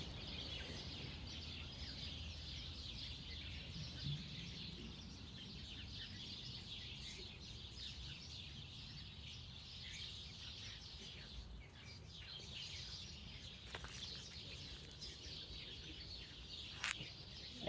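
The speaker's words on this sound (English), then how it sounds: "I don't know if you can see all the birds." Many birds chirp and call outdoors, a busy continuous chorus at moderate distance with scattered louder tweets over steady background noise.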